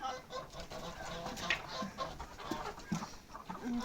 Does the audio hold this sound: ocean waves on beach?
no